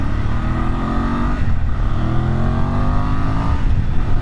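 Voge DS800X Rally adventure motorcycle with a parallel-twin engine, heard while riding: a steady, close engine drone with layered harmonics and slight pitch swells as the throttle shifts, with no talk.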